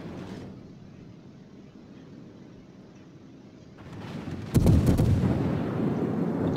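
Naval shells firing and exploding in the World of Warships video game, a low rumbling barrage building to a sharp, loud blast near the end, followed by sustained roaring.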